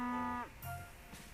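A cow in the farming game Peachleaf Valley gives a single drawn-out moo, loud and close, followed by a brief, quieter lowing grunt with no talk.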